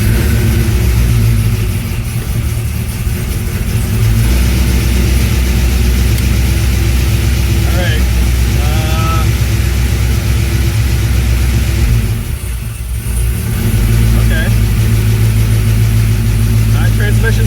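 A 1987 Chevrolet El Camino with a swapped LS V8 engine hums and revs steadily while driving, with road rumble throughout and brief faint voices in the background.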